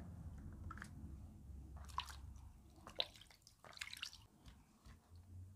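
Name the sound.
water for washing hands before eating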